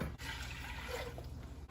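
Water, 1,500 grams measured out, being poured into a stock pot, a short, quiet, steady splashing stream lasting under two seconds.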